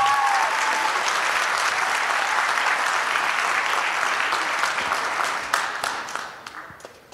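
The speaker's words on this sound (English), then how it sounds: "Let's give these students a round of applause" An audience at a school winter jazz band concert claps for the students in dense, sustained applause that fades toward the end.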